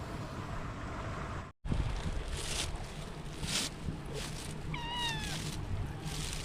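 A cat meows once, fairly faint, over steady wind and engine rumble outdoors.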